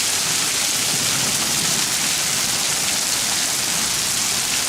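Hail just under half an inch across pelting down during a storm in Guardian, West Virginia, a dense, steady roar of pattering impacts with no let-up and no voices.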